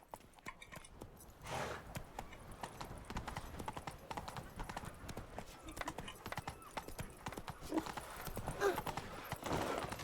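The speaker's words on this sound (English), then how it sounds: "Just get Roach. look. Giddy up." Horse hooves clip-clop steadily on a town's paved streets in The Witcher 3: Blood and Wine, a continuous close rhythm of game footfalls with an occasional whinny, running alone without talk.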